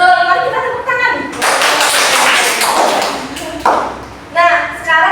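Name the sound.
clapping hands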